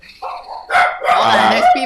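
Several dogs bark loudly and excitedly at people walking past a house, a sharp opening yip followed by a burst of overlapping close barks.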